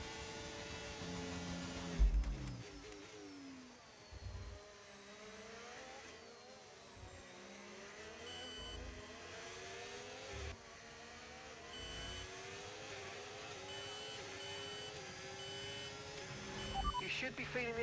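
Race cars launch from the start in the F1 25 racing game, with engines revving and wailing through rising and falling pitch sweeps. A loud pack roars nearby, and a commentator's voice talks over it.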